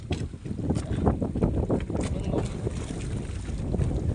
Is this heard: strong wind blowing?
yes